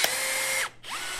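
A Huck Makita BV4500 18V cordless lockbolt tool sets a fastener: a brief close whirring motor drive winds down, pauses, then spins back in a shorter return stroke, all within about a second.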